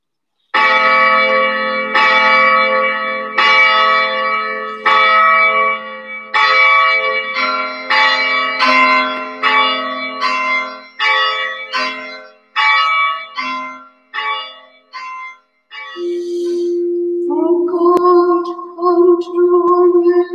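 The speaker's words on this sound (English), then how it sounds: "let us begin by playing those beautiful bells, the bells of St. Mary's Abbey" The church bells of St. Mary's Abbey in Waterford, Ireland ring loud and close in a continuous peal, strikes overlapping and ringing out for the full length, the pitch shifting lower near the end.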